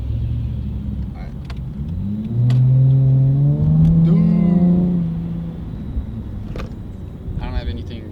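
A car engine on the Las Vegas Strip rises in a steady rev to a sustained drone, then falls back beneath a constant rumble of surrounding traffic and street noise, with people talking nearby.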